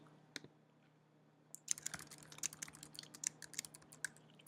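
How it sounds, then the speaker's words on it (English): Rapid keyboard typing, clicky and close, after a single early keystroke; an irregular run of keypresses fills most of the clip with no talking. "I was just typing in and pushing submit"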